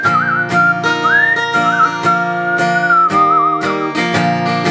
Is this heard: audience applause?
no